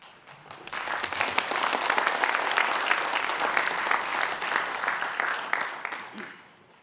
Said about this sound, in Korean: 다시 한번 여러분 힘찬 박수로서